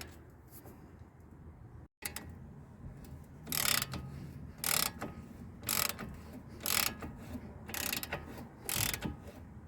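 A ratchet with an 18mm socket clicks in repeated bursts turning a nut on a Nissan Qashqai anti-roll bar, several rapid ratcheting strokes spaced about a second apart, close and mechanical, with a short gap early on.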